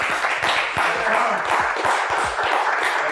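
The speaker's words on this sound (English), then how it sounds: "Everybody start clapping right now." A live studio audience claps and applauds in a steady, dense wash of many hands, loud and continuous throughout, with a few voices faintly mixed in.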